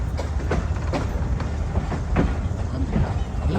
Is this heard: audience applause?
no